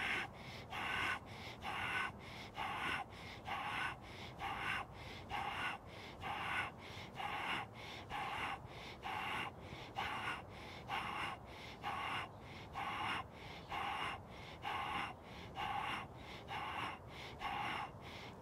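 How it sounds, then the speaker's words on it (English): Steady, rhythmic breathing in and out during a seated dynamic tension breathing exercise, with about a dozen close, airy inhale-exhale cycles repeating evenly at a quiet level with no talking. "Breathe in. Breathe out."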